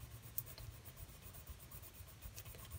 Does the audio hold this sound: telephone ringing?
no